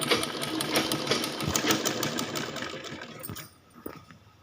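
Sewing machine stitching folded cloth strips for an umbrella skirt, a steady close mechanical whir with rapid rhythmic clatter that runs for about three seconds, then stops, leaving a few faint clicks.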